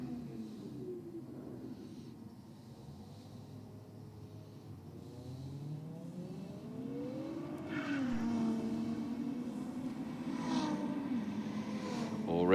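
A red Toyota Supra drag racing down the strip, its engine rising through the gears in sweeping revs that grow louder toward the end, with a commentator talking over it.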